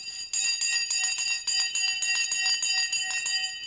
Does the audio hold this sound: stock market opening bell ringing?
yes